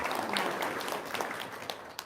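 An audience claps in a steady, dense wash of applause that carries on throughout, with a few sharper claps standing out near the end.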